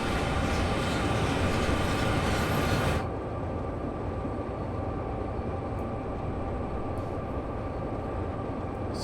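A long freight train on the Sherman Hill route between Cheyenne and Laramie in the Train Sim World 2 game rolls steadily in the rain, with a constant loud rumble, wheel clatter and engine drone throughout.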